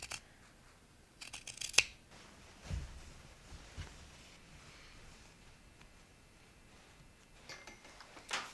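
Scissors snip through fabric being cut into strips for bias tape while making a pink wrap dress, giving a few crisp, close cuts around the two-second mark before fainter snips near the end, with no voices.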